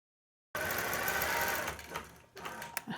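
A Gammill longarm quilting machine runs steadily, stitching a Harley T-shirt quilt with a fast, continuous mechanical chatter that starts abruptly after a brief silence, then falters and slows into uneven bursts near the end.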